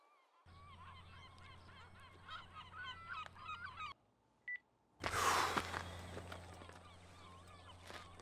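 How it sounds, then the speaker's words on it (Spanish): Seagulls call repeatedly through a phone line in a police drama, thin squawking cries over a low hum, followed by a brief tone and a burst of harsh noise. "escucho las mismas puñeteras gaviotas"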